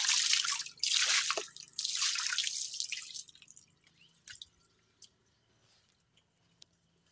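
Water is poured during household cleaning, a strong splashing rush for about three seconds that fades into a few scattered drips.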